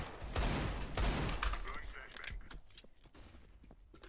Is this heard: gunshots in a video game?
yes